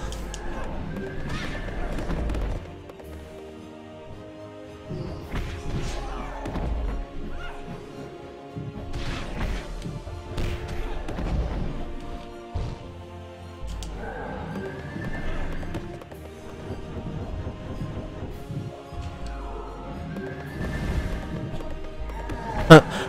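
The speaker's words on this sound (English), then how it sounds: "I like watching the horse plow through the fish." A horse in the video game Abyss Odyssey gallops and neighs while crashing through fish enemies, with repeated whinnies, hoofbeats and heavy smashing hits amid busy game music and effects.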